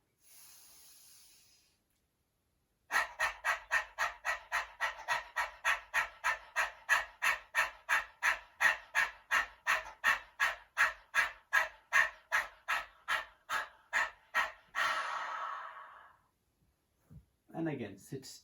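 A person doing Kukkariya Pranayama, the dog-panting breathing exercise, produces a long run of rapid, even, rhythmic panting breaths, loud and close, followed by a slower exhale and brief breathing sounds.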